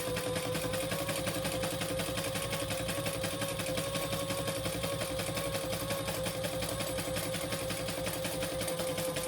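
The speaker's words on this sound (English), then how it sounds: "we're going to stitch that together at the seam allowance in the pattern" A sewing machine runs close and steady for the whole stretch, stitching the bottom card-slot panel of a crossbody bag along its seam allowance with an even, continuous whirring hum and no pauses.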